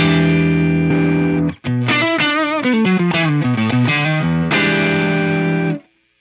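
Electric guitar played through a drive pedal on a Fender Tone Master Pro digital modeler, loud and distorted, with sustained chords, a brief cut, then a run of rhythmic bent and strummed notes before a final ringing chord.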